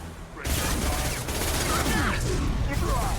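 Gunfire during a combat firefight in the 2010 video game Mass Effect 2, a dense continuous burst of shots and impacts starting abruptly and running loud throughout, with faint voice-like sounds mixed in.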